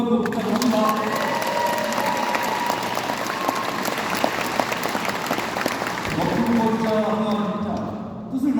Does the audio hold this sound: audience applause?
yes